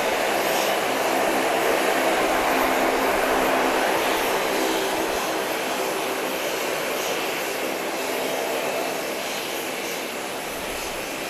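A jet aircraft roars at Owen Roberts International Airport on Grand Cayman, a loud, sustained broadband engine rumble and hiss that holds steady and eases slightly toward the end.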